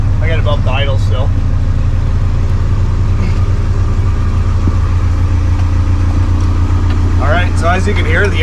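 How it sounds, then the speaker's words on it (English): A Ford Lehman boat engine runs at a steady, loud idle after its wet sleeve O-rings were replaced, while someone talks briefly at the start and again near the end. "as you can hear, the engine's running"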